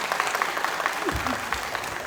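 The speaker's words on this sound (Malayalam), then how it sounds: "ഒരു വലിയ കൈയടി കൊടുക്കണ്ടേ അവർക്ക്?" Applause from an audience at a school annual day event, cheering a children's performance: broad, steady clapping that fills the whole moment at moderate loudness, with no distinct voices standing out.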